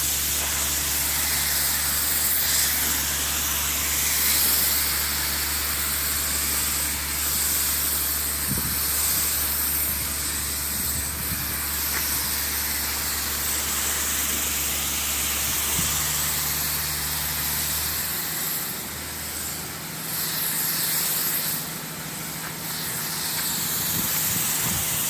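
A spray gun lays metallic base coat paint on a car in a steady, close, continuous hiss that runs throughout with only slight dips in level, and no one speaks.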